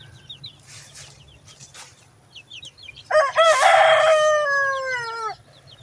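In a Deep South Texas garden, chickens cluck softly with a few faint chirps and then a rooster lets out one loud, close crow lasting about two seconds over a low steady hum.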